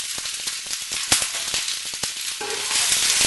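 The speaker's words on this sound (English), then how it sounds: "first fry the Parwal in hot oil" Pointed gourd (parwal) frying in hot oil gives a loud, continuous sizzle close by, broken by sharp crackles and pops.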